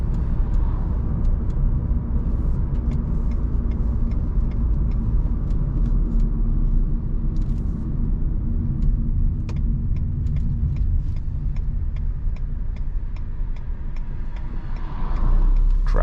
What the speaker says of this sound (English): Traffic, late hour.